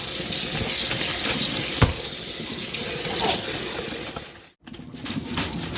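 Cold tap water pours in a steady loud rush over freshly cooked noodles for a Vietnamese crab noodle soup, a continuous splashing hiss that cuts off briefly near the end before running again.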